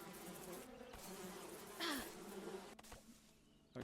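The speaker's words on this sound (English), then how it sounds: "Where were the bees? Ah, there they are." Bees buzzing in the video game Above Snakes, a steady close insect drone with a brief louder swell partway through, heard alone without talk.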